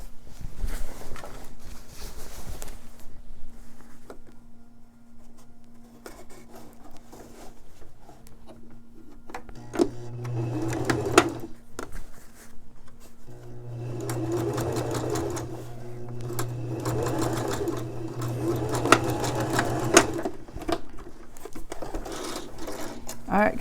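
A sewing machine stitches down a dress shirt seam in steady whirring runs with rhythmic needle clatter, starting and stopping a few times. A person talks over and between the runs.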